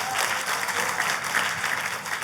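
A church audience bursts into lively, sustained applause offered to God during a sermon, a thick continuous roar of clapping from many people that stays loud and even from start to finish.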